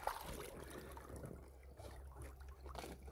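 A pump flushes water through a gold sluice fitted with a miner's moss mat, making a faint, steady trickling rush with a low motor hum underneath and no talking.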